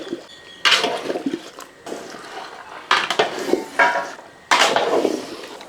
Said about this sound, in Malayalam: ഇനി നമുക്ക് ഇതൊന്ന് ഇളക്കാം